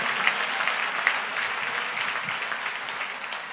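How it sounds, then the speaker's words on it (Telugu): A church congregation claps at a sermon, a fairly faint, continuous patter of many hands with a few sharper individual claps early on. "గట్టిగా కొడితే చప్పట్లు గట్టి కొట్టు"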